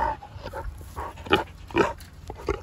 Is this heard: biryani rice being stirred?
no